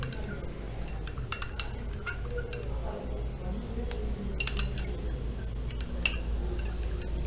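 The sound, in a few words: stirring aloe vera juice in a glass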